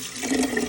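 Running water gushes steadily over raw pig tails being rinsed out for a stew, a close, continuous splashing flow with no talking.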